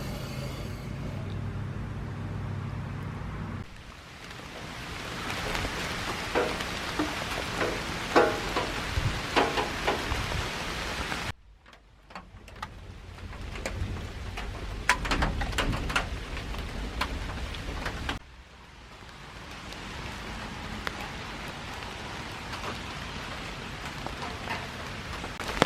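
Rainwater runs through a small aluminum gutter, a steady rushing hiss with dense splashy patter that shifts in level across several stretches, continuous and without talk.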